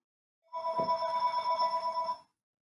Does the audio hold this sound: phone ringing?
yes